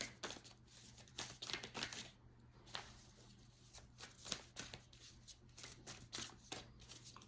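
Tarot cards being shuffled up close, steady rapid papery riffles and slides in uneven bursts over a faint low hum, quiet and with no talking.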